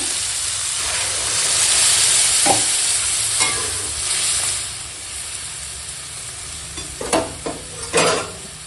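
Vegetables being sautéed with ground cumin paste in a pan, giving a close, steady sizzle and hiss with intermittent scraping stir strokes, which grow sharper and more spaced toward the end.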